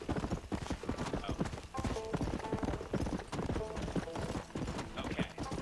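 A horse in the Red Dead Redemption video game trots with a steady, rapid clip-clop of hooves that continues throughout at moderate loudness, with a busy game soundscape behind it.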